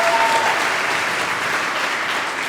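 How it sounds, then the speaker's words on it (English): Conference audience at PyCon UK 2023 gives a quick round of applause for a lightning talk speaker, a steady, fairly loud wash of many hands clapping throughout. "quick round of applause, please."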